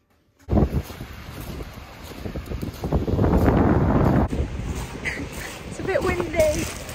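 Gusty wind buffets the microphone at the seaside in Eastbourne, a steady roar that swells and eases over several seconds, with a person talking through it.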